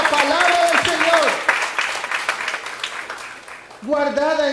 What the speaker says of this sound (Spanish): Aplaudamos al Señor, sí.